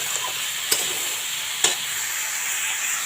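Vegetables frying in a pan for a spicy sea-fish and radish curry, a steady sizzle with two sharp clinks of a spatula stirring against the pan.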